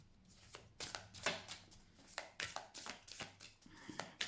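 A deck of tarot cards being cut and shuffled by hand, giving a quick run of crisp, close slaps and riffles in an irregular rhythm, soft overall, with no voices.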